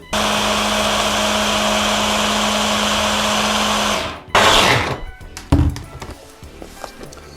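Kitchen blender whirring steadily for about four seconds while pureeing parsley sauce for chicken tapaka, then cutting off, followed by a few loud clunks and knocks as the jar is handled.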